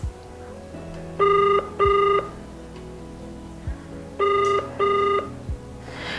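A phone rings back during an outgoing call, two pairs of bright, steady electronic tone bursts with pauses between them, clear and close with no talk.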